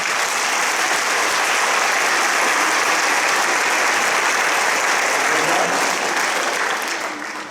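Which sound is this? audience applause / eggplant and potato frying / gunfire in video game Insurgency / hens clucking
audience applause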